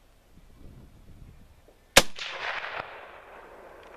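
A single sharp, loud shot from a Mosin 1928 Dragoon rifle fired off a card table, followed by a decaying outdoor echo after a quiet lead-in.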